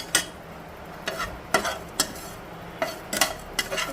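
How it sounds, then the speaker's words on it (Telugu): Fenugreek seeds, mustard seeds and urad dal frying in hot oil, with a low sizzle broken by sharp, irregular spoon clacks against the pan, close and fairly loud. "ఆయిల్లో మెంతులండి ఆవాలు మినపప్పు ఫ్రై చేసుకుంటున్నాము"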